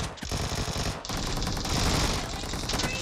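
Automatic gunfire in the mobile battle-royale game BGMI, a dense continuous rattle of rapid shots filling the short stretch, loud and close with a brief break near the start.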